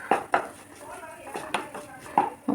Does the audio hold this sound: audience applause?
no